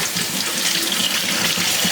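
Hot water runs steadily from a household tap in Arizona, a continuous close hiss and splash with no break and no voices.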